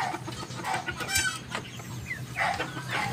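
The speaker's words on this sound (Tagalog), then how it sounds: "Yung lalaki natin na pabo." A male white turkey calls repeatedly with short, harsh bird sounds, fairly loud and close, against faint background noise.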